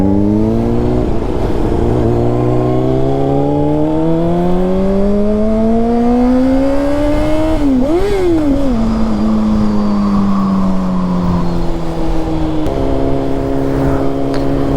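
Honda CBR600RR sports bike engine under way, its harmonic whine climbing steadily through the revs, dipping briefly around a gear change, then settling lower and steady; loud and close with wind noise, no talking.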